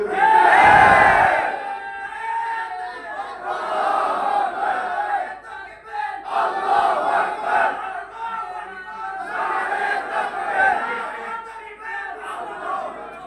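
A large crowd at a Milad-un-Nabi religious gathering roars the Nara-e-Takbir slogan in loud, rolling waves of massed voices that swell and fall over several seconds.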